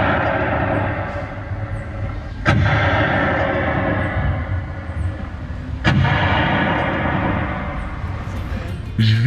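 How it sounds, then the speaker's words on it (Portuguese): Cannon shots fired from the Forte do Presépio in Belém, heralding the start of the Círio: two heavy booming blasts a few seconds apart, then a third at the very end, over a loud, dense crowd-like rumble. "Os 21 tiros de canhão eram dados do Forte do Presépio e eles anunciavam o início do Círio."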